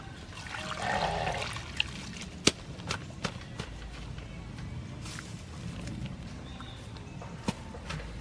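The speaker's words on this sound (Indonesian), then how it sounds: "kita siram pakai air seperti ini." Water is poured over rice straw for straw mushroom growing, a continuous trickling splash running under scattered sharp taps and knocks, with no talk.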